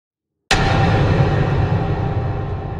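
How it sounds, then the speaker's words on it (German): Steady rain in the video game Little Nightmares 2, a dense broadband hiss that starts abruptly and holds loud and even throughout, slowly easing slightly toward the end, with no talk over it. "schnell rein, raus aus dem Regen."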